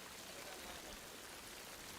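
Steady rain in a war drama scene set in the Pacific, a dense even hiss of falling water without breaks, with no one speaking.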